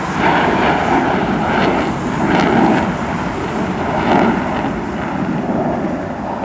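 Blue Angels jet aircraft rumble in the distance over Seattle's Seafair, a continuous rolling roar echoing off a hill and swelling slightly as the planes draw closer.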